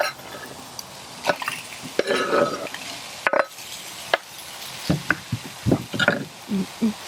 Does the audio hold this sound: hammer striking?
no